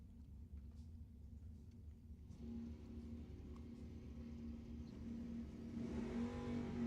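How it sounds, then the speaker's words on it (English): A Mustang and a Camaro launch side by side at a drag strip, engines building from a low idle rumble into a rising, distant roar that swells toward the end. "Rich Wendler in the green Mustang getting a little bit of a head start over Joe Girardi in the Camaro."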